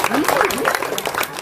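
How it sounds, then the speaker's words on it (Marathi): A crowd at a 75th Independence Day gathering at an ashram in Butiboriā applauds to welcome a guest, steady group clapping under a voice talking over the top. "जोरदार टाळ्या वाजवून त्यांचं स्वागत करा"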